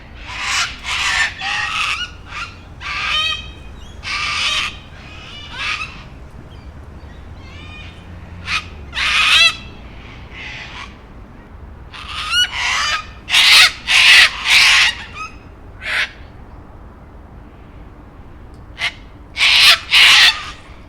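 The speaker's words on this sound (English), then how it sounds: "In the tree there are these cockatiels." A flock of cockatiels in a tree in Sydney screeches over and over, shrill, harsh calls in overlapping bursts, loud and fairly close, with brief lulls between.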